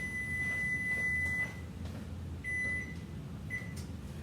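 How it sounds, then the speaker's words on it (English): A kitchen oven gives a series of electronic beeps: a long steady tone, then a shorter one, then a brief final beep, each rising above a constant low room hum, with no talking. "that's my oven."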